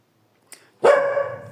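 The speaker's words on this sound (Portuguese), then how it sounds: "cachorro chato aqui" A single loud dog bark bursts out close by after a short faint yelp, ringing on for a moment as the only sound.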